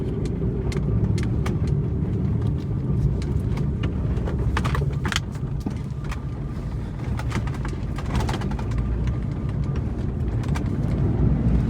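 A Maruti Alto car drives along a single-lane road. Its engine and tyre rumble form a dense, steady roar throughout, with small clicks and knocks scattered over it.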